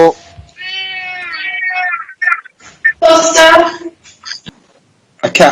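A cat meows during a council meeting: a drawn-out, wavering cry at the start, followed by clipped voices and another loud yowl, with talk mixed in.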